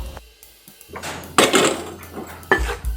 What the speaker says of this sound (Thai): ทำการผัดแป้งก่อน ให้แป้งเขาสุกในระดับหนึ่ง ก่อนนำไปใช้